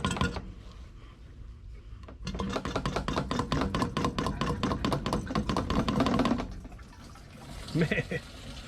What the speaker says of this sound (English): jiggle it up and down a few times, and it'll start a siphon